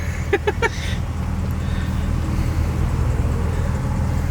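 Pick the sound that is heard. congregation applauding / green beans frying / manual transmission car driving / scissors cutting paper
manual transmission car driving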